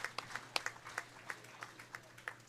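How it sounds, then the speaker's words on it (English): A handful of scattered, distinct claps ring out in an arena at a county fair dairy steer show, faint and sparse with irregular spacing over low background hum. "Please, let's have a well-deserved round of applause."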